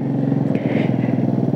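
A Honda CGL125 motorcycle bored out to a 200cc cylinder runs close by. It has a loud, rapid, even engine putter with rattling pulses and a brief rise in revs partway through.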